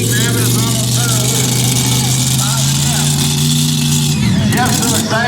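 A pulling tractor engine roars at wide open throttle during a tractor pull competition, a loud sustained drone that climbs steadily in pitch before dropping near the end, with a voice talking over it.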